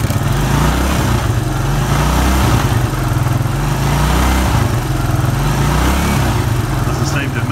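A 1996 Suzuki Quad Runner ATV engine idles close by with a steady, buzzy, slightly uneven putter, holding a constant low rumble throughout.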